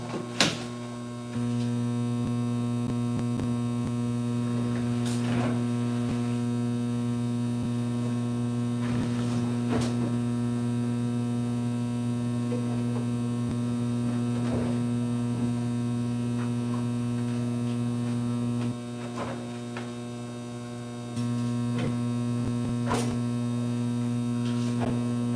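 A steady, low electrical hum from a generator drones continuously with a faint buzz, dipping briefly in level partway through before settling back.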